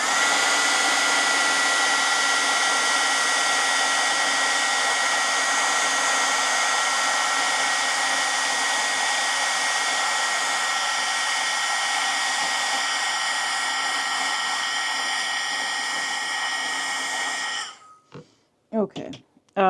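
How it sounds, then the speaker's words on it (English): A heat gun blowing on painted paper, producing a loud, steady whirring roar close by that runs for most of the stretch and then cuts off, followed by a few brief knocks. "I am going to hit this with the heat gun"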